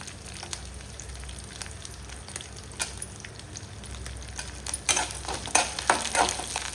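Mustard seeds, chana dal, urad dal, curry leaves and chillies fry in hot oil, giving a steady close sizzle with crackling pops that grow busier and louder toward the end, plus occasional stirring.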